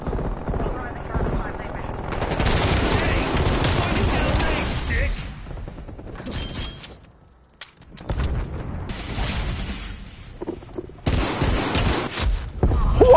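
Sentry turret gunfire in a video game, long bursts of rapid automatic fire that stop, leave a near-silent gap, then resume in loud stuttering volleys.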